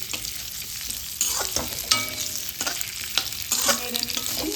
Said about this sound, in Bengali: নেড়ে নিচ্ছি, নেড়ে নিয়ে তারপরে মশলা দেব।